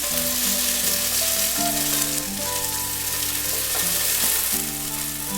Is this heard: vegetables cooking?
yes